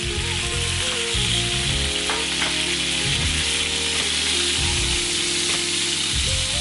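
Pork chops brown in a hot pan, giving a loud, close, unbroken sizzle with occasional faint stirring sounds and no talking.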